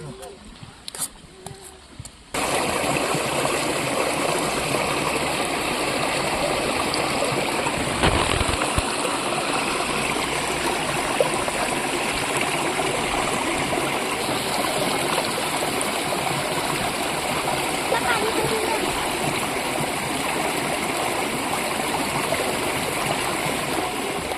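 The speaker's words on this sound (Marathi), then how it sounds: "हे सोलून झालंय, आता त्याला धुऊया" Peeled ginger and garlic are washed under a strong, steady stream of running water that gushes loudly and continuously, close by, after a brief quieter start with a few faint clicks.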